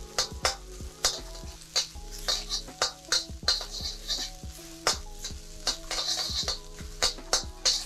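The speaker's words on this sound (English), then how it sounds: "gonna saute that through for 20-30 seconds. We don't want to burn our garlic." Garlic sautéing in a pan for fried rice, a steady sizzle broken by frequent sharp scrapes and clinks of a utensil stirring against the pan, close and fairly loud with no talking.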